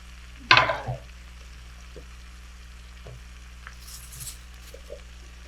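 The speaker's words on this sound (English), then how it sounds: "the best way I know how, I stir this up" Food frying in a pan full of ingredients that are cooking down, with a loud clatter of stirring near the start and then a quieter steady sizzle with occasional small pops.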